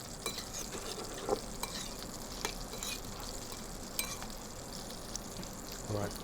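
Potatoes being stirred and tossed with pesto and consommé dressing in a bowl, giving soft, wet, continuous stirring and sloshing with a few louder clinks, close and steady throughout.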